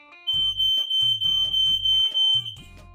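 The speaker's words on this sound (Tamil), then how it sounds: "இந்த ஃபயர் அலாரம் இப்படி அடிச்சிரும்" A home smoke detector fire alarm shrieks with a loud, steady high-pitched tone, pulsing in repeated beeping bursts about every half second, close and alone with no talk.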